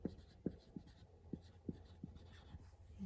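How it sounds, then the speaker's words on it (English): A pen writing out chemistry notes on paper: quiet, close scratchy strokes in an irregular rhythm of short taps and scrapes, faint against a low background hum. "I'll just write these out here."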